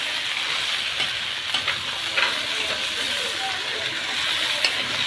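Taro with meat sizzles in a pot as it is stirred and sautéed, a steady hissing fry with occasional scraping stir strokes, close and fairly loud.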